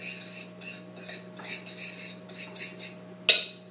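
A spoon stirs ground cinnamon and sugar together in a bowl, making soft repeated scraping strokes, then ends with a single bright clink against the bowl.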